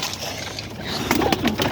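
Pigeons cooing while being fed, a faint murmur of coos under background noise, growing slightly busier toward the end.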